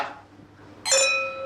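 Glasses clink once, sharply and close, in a celebratory toast during a business dinner, the bright ringing tone decaying after the strike, following a brief voice fading at the start.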